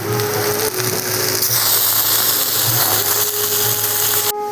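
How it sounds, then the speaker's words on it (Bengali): A kitchen mixer grinder runs loud and close while grinding coconut into a paste, with a steady motor whine and a rattling, rhythmic churn that cuts off abruptly near the end. "নারিকেলটা আমি মিক্সারে পেস্ট করে নিয়েছি"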